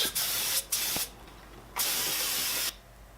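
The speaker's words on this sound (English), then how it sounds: "Just spraying the top now." Finish is sprayed onto a red gum wooden box in two sustained hissing bursts with short gaps between them, close and fairly quiet, and the spray stops near the end.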